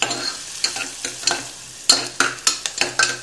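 Onion sautéing in a pan, a sizzle broken by repeated sharp scrapes and taps of a spoon stirring against the metal at an uneven rhythm, with no voices.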